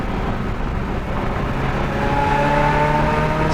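A Ferrari F355 with its high-revving V8 engine runs steadily and then climbs in pitch as it revs, heard alone at close range.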